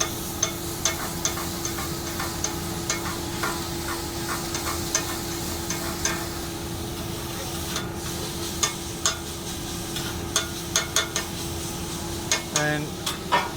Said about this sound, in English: So we flip it, let it sear a little bit